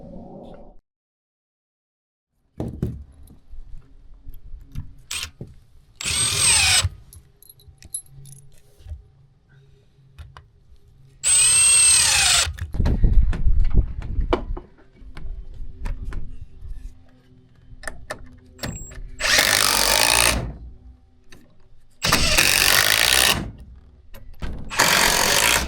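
A power drill drives screws to hold a section of an earthbag wall, heard as several loud, separate bursts of whirring over a long stretch, with quiet gaps and clinking handling noises in between.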